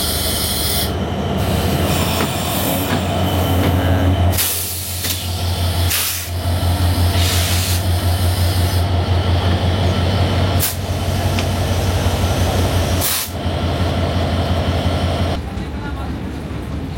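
The Khulna-to-Dhaka Chitra Express passing alongside a waiting train at a station crossing, a loud sustained rumble of carriages with wheel squeal and rhythmic gaps as cars go by, fading at the end.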